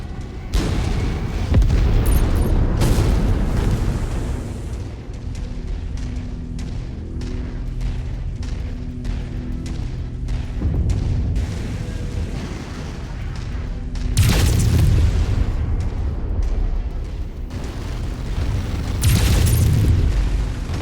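Explosions from destroyed targets in MechWarrior 5 combat sound as heavy booms and rumbling blasts, with louder bursts near the start, middle and end over a continuous low roar of battle.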